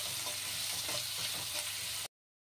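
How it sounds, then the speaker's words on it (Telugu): Steady, dense sizzling of onions frying in hot oil with tempering spices, close and continuous, cutting off abruptly after about two seconds. "ఆనియన్స్ వేసేసి ఆనియన్ బాగా ఫ్రై అవ్వాలి"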